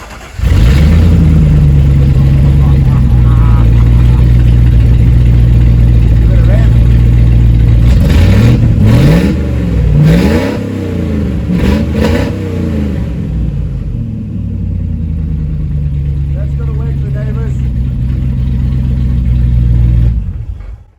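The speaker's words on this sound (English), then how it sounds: "Exhaust without any mufflers, just the headers." A V8 engine running with its exhaust taken off at the headers and no mufflers, a loud, close, raw idle that climbs into several sharp revs midway before settling back to a deep rumbling idle.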